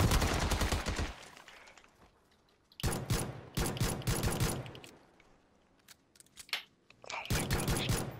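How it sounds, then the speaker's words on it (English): Gunfire in a shooter video game: several loud bursts of automatic fire close by, broken by brief pauses, with scattered single shots in between. "Someone was shooting me from behind you."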